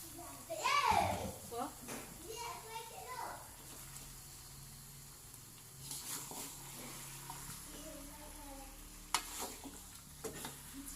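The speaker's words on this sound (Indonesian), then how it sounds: "lompongnya dimasukkan ke kuali. Nah, sudah. Terus kita aduk ya." Taro stems being stirred in a wok for a Padang-style sauté, with soft scraping and sizzling strokes near the start and faint clinks later, under a quiet kitchen background with a voice in the mix.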